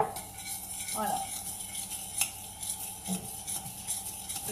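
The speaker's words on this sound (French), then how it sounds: "je mélange le sucre et le beurre" Soft butter and sugar stirred together in a bowl with a utensil for cookie dough, close scraping and clinking strokes at a quiet level.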